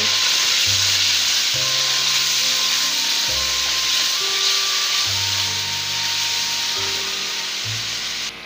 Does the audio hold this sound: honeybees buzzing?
no